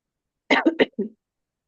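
Four quick, breathy coughing huffs in a short burst, close and fairly soft, with silence before and after.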